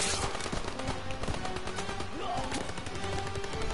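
Rapid machine gun bursts and scattered rifle fire in a Call of Duty WWII battle, dense and continuous throughout, with shouted voices mixed into the chaos.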